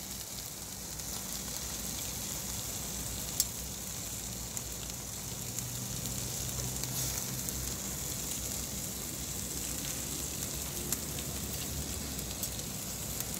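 Milkfish (bangus) sizzling on a grill alongside chicken, shrimp and corn, a steady close hiss and crackle throughout with occasional sharp pops.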